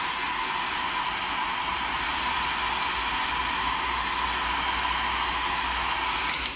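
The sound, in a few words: hair dryer blowing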